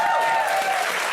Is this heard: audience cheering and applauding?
yes